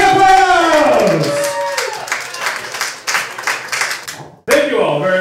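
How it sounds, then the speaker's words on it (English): Audience applause and clapping at a storytelling night, a dense burst of many hands that thins and fades over several seconds, with voices mixed in and a single voice speaking at the end. "Give a round of applause"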